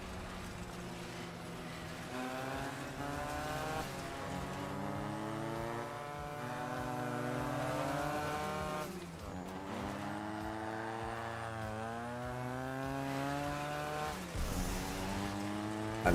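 Combat vehicle engines in the game Crossout, a rising and falling race-car whine with repeated revving sweeps and tire-squeal texture, loud and continuous across the whole stretch, no voices.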